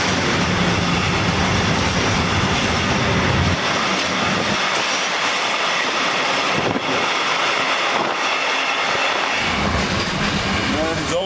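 Loud, steady rumble and rattle of a moving freight train heard from aboard, with wind roaring past and the low drone shifting partway through as the train changes direction.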